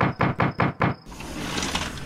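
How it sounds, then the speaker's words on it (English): Five firm knocks on a wooden door in quick, evenly spaced succession, loud and close, followed by a low muffled background rumble. "Undeterred, Calvin knocked again"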